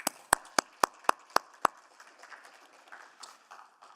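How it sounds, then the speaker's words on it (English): Guests at a city urban planning committee meeting receive a brief round of applause: several sharp, evenly spaced claps in the first two seconds, then fading into quieter scattered clapping and faint room noise. "Round of applause to our guests."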